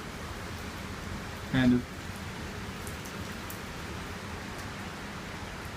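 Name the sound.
typhoon rain falling in Tokyo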